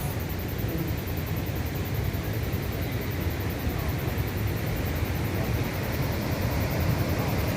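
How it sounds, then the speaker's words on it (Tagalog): The Huka Falls waterfall gives a constant, loud, broadband roar of rushing water that fills the whole clip without a break. "lakas ng falls, oh. Lakas ng tubig, oh."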